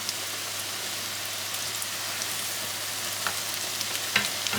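Csöröge, thin Hungarian fried pastry, crackles in hot oil as a steady close sizzle like light rain, with a few small pops and a faint clink near the end, with no voices.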